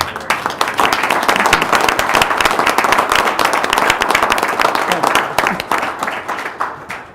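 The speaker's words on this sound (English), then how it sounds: "Can I give you a round of applause?" An audience at a St. Clair County Board of Commissioners meeting breaks into a round of dense, sustained applause, many hands clapping together before tapering off at the end.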